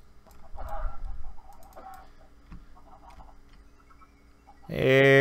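Chickens on a video game chicken farm cluck in short bursts at moderate loudness, with a loud harmonic squawk at the end and a person talking in between.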